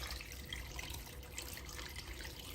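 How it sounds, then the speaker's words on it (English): A steady stream of water splashes and gushes into a cooking pot holding gizzards and garlic, fairly quiet and continuous throughout. "we add water to boil"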